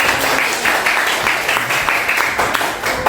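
A classroom of pupils claps together in a steady, dense patter that fills the whole stretch, loud and close with a bright crackling texture and no pause.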